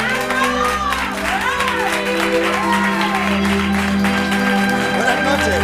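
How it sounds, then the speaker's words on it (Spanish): A studio audience on a Spanish TV talk show applauds and cheers in a steady wash of clapping, with shouting voices on top and music running underneath. "¡Fuerte aplauso para Vizcarra!"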